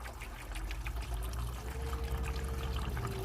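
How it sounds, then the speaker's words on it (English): Water drains steadily out of the bottom of a Mini One's cooling system during a coolant flush, a continuous close splashing trickle with no talk. "You can hear it pissing out the bottom."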